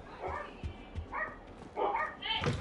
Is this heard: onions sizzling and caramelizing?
no